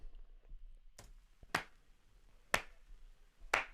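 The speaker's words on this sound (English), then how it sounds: "First thing, let's look at the claps." Four sharp, close hand claps recorded live for a music beat, spaced about one second apart in an even rhythm over quiet background.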